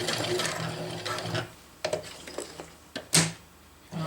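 A sewing machine stitches diagonal seam lines on a DIY water bottle carrier, with a rapid mechanical chatter at first, then short stop-start bursts and clicks as the stitch is locked, close and fairly quiet.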